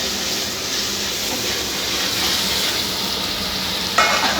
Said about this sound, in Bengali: আমি কিন্তু সর্ষে আর শুকনো লঙ্কা ফোড়ন দিয়ে দিয়েছি